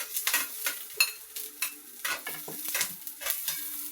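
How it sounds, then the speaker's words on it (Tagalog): Garlic frying and being stirred in a pan for chicken feet adobo: a steady sizzle broken by repeated scraping strokes of a spoon, close and fairly loud, with no talking. "Then, ilagay po natin yung bawang. Then, halo-haloin po natin po."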